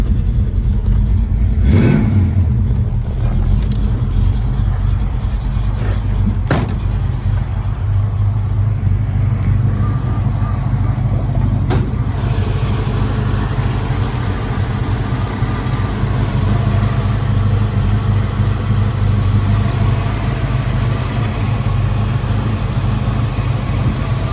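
A 1966 Ford Mustang GT coupe with a 4-speed runs steadily near the microphone, its V8 idling with a deep rumble and rising briefly in a few sharp revs.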